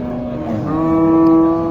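A tall Sahiwal bull at a cattle market gives one loud, close, drawn-out moo that rises into a sustained tone.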